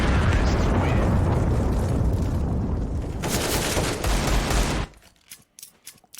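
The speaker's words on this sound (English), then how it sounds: "A few bullets come his way." Counter-Strike: Global Offensive gunfire as bullets fly toward a player, dense rapid shots and blasts packed together, then a few sparse sharp cracks as it thins out, under a commentator's voice.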